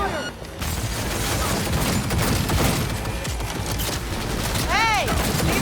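A Cyberpunk 2077 minigun turret fires a sustained, dense rattling burst, loud and close, with voices shouting over the gunfire and a whooshing sweep near the end.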